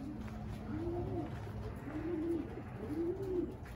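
Three soft, rolling coos from racing pigeons in a Texas loft repeat at a steady pace over a constant low background hum.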